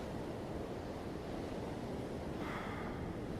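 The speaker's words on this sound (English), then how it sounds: "The waves crash against the shore." Waves wash steadily against a shoreline in a continuous, even roar of surf, with a slight brightening swell near the end and no voices.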